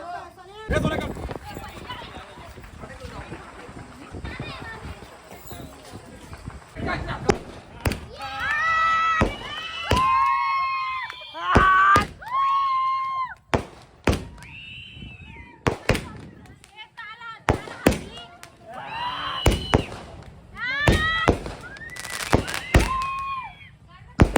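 Scattered sharp cracks and pops of firecrackers burst at irregular intervals while people talk loudly nearby.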